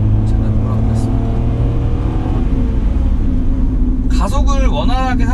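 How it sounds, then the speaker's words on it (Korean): A Kia Ray small car's engine revs up toward about 5000 rpm while accelerating on a test drive, a steady droning hum under someone talking, whose voice is heard near the end. "지금 가속이 이렇게 조금 이루어지는 부분도 한 5000rpm 이렇게 올라가면서 이렇게 가속이 되잖아요"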